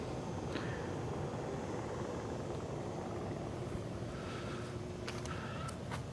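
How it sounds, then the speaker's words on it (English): A distant helicopter flies around outdoors, a faint, steady low rumble that carries on behind soft wind noise with no talking. "Like that helicopter that you hear flying around"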